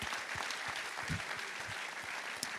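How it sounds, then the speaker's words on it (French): An audience claps steadily for a speaker at a club performance event, dense even applause that fills the space at moderate loudness, with no voices over it. "on peut encore applaudir Jason Buaillon"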